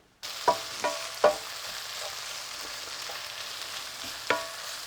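Onion frying in a pan for Persian street-food jaghoor baghoor, a steady sizzle with a few sharp stirring clicks and scrapes spread across it.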